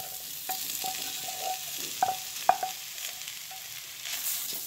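Beaten eggs hit a hot pan for egg fried rice, giving a quiet soft sizzle broken by several sharp clinks and scrapes of a spatula against the pan; no talking.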